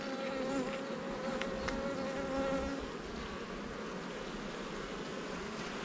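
Honeybees buzzing steadily around production beehives during an apiary visit, a continuous, dense hum of many insects outdoors, quiet and even, with no one speaking.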